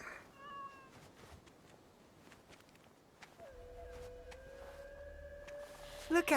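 A cat in Assassin's Creed Shadows gives several soft, tonal meows over low game ambience, with a drawn-out meow in the second half and a few faint footstep-like taps.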